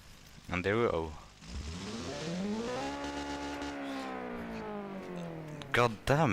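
A racing video game car with an engine modeled on an Opel Manta, Group B style, revs in a long sustained rising and falling wail, loud and close, with short bursts of speech at the start and end.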